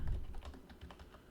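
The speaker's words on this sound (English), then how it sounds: "my fingers are off on the keyboard" Fingers patter on a computer keyboard in a short, soft burst of rapid keystrokes, heard alone at close range.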